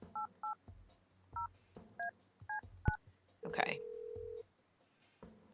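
Telephone keypad tones sound in the video game Kathy Rain as a number is dialed, with short evenly spaced beeps in quick pairs and singles, a brief low burst, and a voice speaking briefly.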